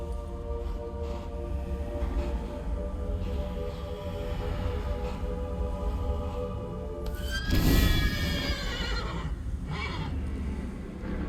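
Horse-shaped umbra in The Witcher 3: Blood and Wine, giving one loud whinny partway through over a constant droning game soundscape, with no talking.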